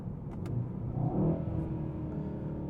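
A turbocharged car engine revs hard, rising in a throaty swell near the middle, then settling back to a steady growl. Close and fairly loud, with no talking over it.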